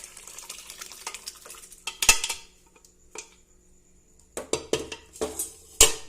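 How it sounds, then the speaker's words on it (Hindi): Boiled dal poured into a hot tempering in a pot and stirred, giving brief sizzles and wet splashes followed by a few sharp metallic spoon clanks against the pot, close and without talking. "मैं डाल देती हूँ दाल जो मैंने बॉईल कर रखी थी।"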